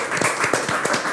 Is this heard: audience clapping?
yes